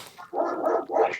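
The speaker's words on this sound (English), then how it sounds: "That's the dogs." A single dog gives two or three quick, close barks in a short burst, loud and clear with no talk over it.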